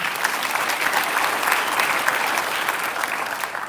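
Audience applauding at a Cobb County Sheriff's Office event, a steady, dense wash of clapping that holds at an even level throughout with no voices over it.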